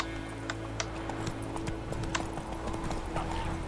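Roach, the horse in The Witcher 3 video game, gallops with steady rhythmic hoof clip-clop and a brief neigh, all at a moderate distance over a low constant game ambience.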